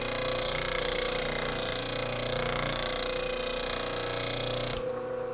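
Bench grinder grinding a chisel blade held on a Veritas grinder tool rest, a steady loud whirring grind that runs continuously and cuts off abruptly near the end, leaving a quieter hum.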